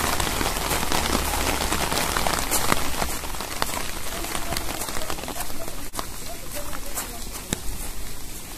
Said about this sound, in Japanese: めっちゃ雨降ってきた。